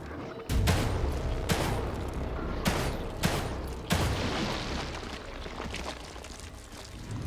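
Gunfire shooting at protrusions in The Evil Within 2, with several heavy, loud shots at irregular intervals, each followed by a rumbling, booming game soundscape.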